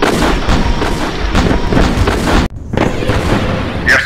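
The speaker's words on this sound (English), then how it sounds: "We are under fire, sir! Martians attacking!" Artillery fire in the War of the Worlds strategy game during a Martian attack on a base, loud, continuous booming barrages that roll on with one abrupt cut-out midway, a short sharp burst near the end.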